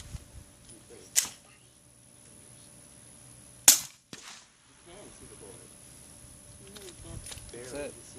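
Two suppressed gunshots fired outdoors, each a sharp, muffled crack a few seconds apart, heard at moderate distance with faint voices and background noise between them.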